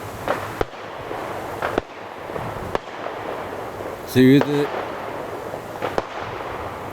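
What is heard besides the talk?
fireworks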